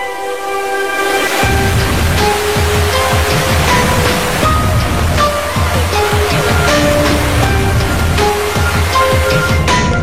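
Steady, loud rushing water of the Sri Getuk waterfall in Gunung Kidul fills the whole stretch, a constant roaring wash of falling water with faint musical tones drifting in the background.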